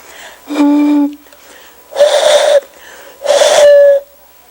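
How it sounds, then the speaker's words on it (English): Three breathy, hollow tones are blown across the mouths of half-full bottles one after another, the first, from a large bottle, noticeably lower in pitch than the next two, with short pauses between. "Here's a half full large bottle versus a half full small bottle."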